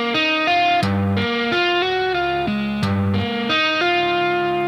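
Distorted electric guitar works through the fourth chord of a song's riff, with loud, saturated chords stepping through several changes in an even rhythm before ringing out at the end.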